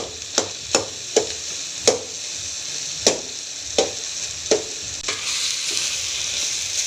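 Chicken pieces for shawarma fry in a pan under a constant sizzle, punctuated by about eight sharp scrapes and knocks of stirring at an uneven pace, with no talk.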